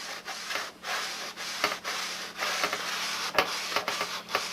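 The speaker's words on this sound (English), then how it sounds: "The next step on this wing, after I sand this whole wing out" Sandpaper rubbed in repeated back-and-forth strokes over the wing of a 1987 Nobler model airplane, a steady hissing scrape with irregular pauses between passes, close and alone.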